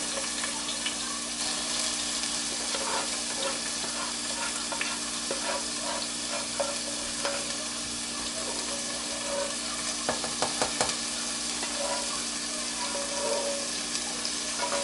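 Boiled tomatoes fry together with tomato paste for Nigerian jollof rice. A steady, dense sizzle runs throughout, with a few light stirring clicks and no talking.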